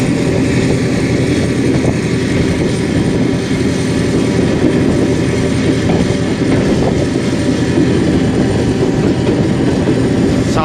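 A passenger train on the 11U service rolls along rails through Sindh, Pakistan, between Landhi Junction and Padidan Junction. A loud, steady rumble and rattle carries on throughout, as if heard from inside a moving carriage.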